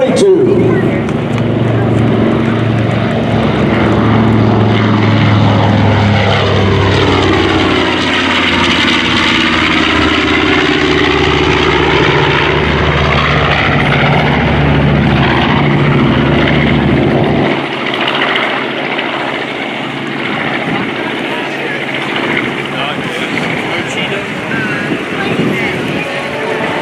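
B-25 Mitchell bomber "Panchito" makes a pass at the 2019 Dover AFB open house airshow, its loud engine drone swelling and fading as it flies by, with an announcer talking over it throughout.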